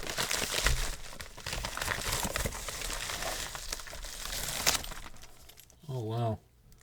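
A paper envelope is opened and crinkled while someone unpacks a lockpicking delivery, steady rustling and crumpling close by for several seconds, then a short voiced sound near the end.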